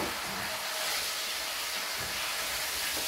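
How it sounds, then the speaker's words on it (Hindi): Chicken pieces, about 1.5 kg of small baby chicken, dropped into plenty of hot oil in a karahi for Cholistani chicken karahi give a steady, loud broadband sizzle and hiss throughout, with no talking. "और ऑयल के अंदर हमने डालना है चिकन"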